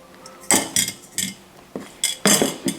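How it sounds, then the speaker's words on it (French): Several sharp metallic clinks and knocks as frozen peppers are dropped into a metal saucepan, arriving in irregular bursts close by with quiet pauses between. "Maintenant je vais les récupérer et je les mets simplement dans une casserole."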